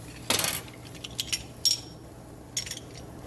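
Garlic cloves are crushed with the back of a knife on a kitchen board, giving a few sharp, close knocks and clacks, one loud strike followed by three lighter ones spaced about a second apart.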